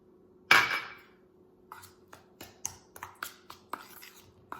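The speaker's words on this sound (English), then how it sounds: "And we're just going to mix this all together." A spoon scrapes and taps in a bowl while graham crumb crust is mixed with white sugar and melted butter, one loud clatter at first, then a run of rhythmic clinks and scrapes.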